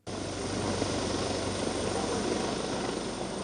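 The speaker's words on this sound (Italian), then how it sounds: "Lo fanno dall'alto con l'elicottero" A helicopter flies over a lake near Treviso during a search by firefighters and divers, its rotor and engine producing a loud, steady, continuous drone that holds without a break and has no voices over it.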